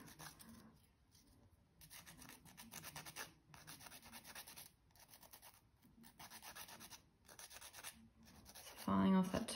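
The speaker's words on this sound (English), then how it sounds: "So filing off that top layer. It's quite a coarse nail file I'm using." A coarse nail file rasps across a painted nail, filing off the top coat in steady back-and-forth strokes, close and fairly quiet, with a louder scrape at the end.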